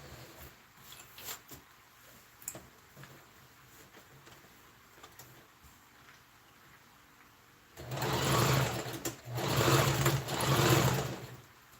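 A sewing machine stitching down a ruffled organza sleeve: quiet handling at first, then two loud sustained runs of rapid mechanical whirring, close by, with a brief pause between them.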